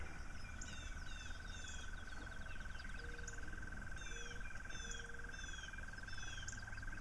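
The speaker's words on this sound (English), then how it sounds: "Those are frogs." Frogs croak in a steady outdoor chorus, faint and distant, with repeated chirping calls over a constant insect-like whir and birds in the background, and no voices.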